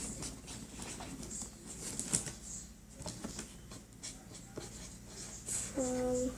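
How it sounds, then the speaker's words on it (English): Pen writing across the top of a taped package, a soft scratchy scribble running throughout at close range with light handling rustles and a brief higher squeak near the end. "And I'm gonna write on the top to Bella."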